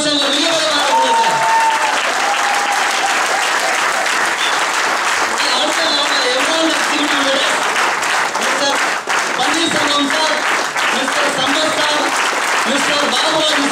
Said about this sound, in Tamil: மிகப்பெரிய பாராட்டு சார்